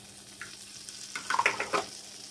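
Flour cooking in melted butter in a pan for mac and cheese, a soft sizzle broken by a few scraping and stirring clicks from a wooden spoon, close and quiet, with no talking.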